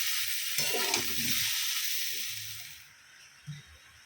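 Broccoli and capsicum sizzle in a pan with turmeric, chilli powder and salt. The loud, steady frying hiss and a few soft stirring knocks drop away sharply near the end, leaving a quieter hiss.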